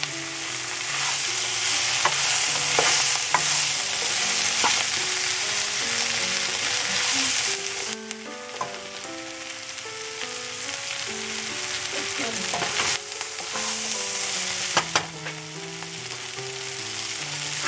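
Okra and onion masala frying in a pan while being stirred, a constant loud sizzle with scraping spoon strokes and occasional knocks against the pan, close up and without speech.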